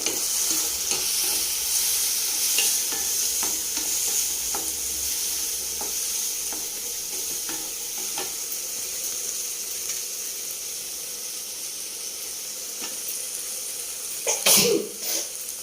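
Vegetables for a ridge gourd masala curry fry steadily in a pan, a continuous close sizzle with occasional stirring scrapes and a brief louder clatter near the end.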